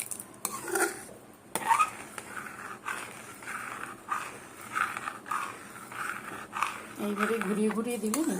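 Mango rice pudding (payesh) stirred in a pot, a spoon scraping and knocking against the metal in repeated rhythmic strokes, close up, with someone talking over it.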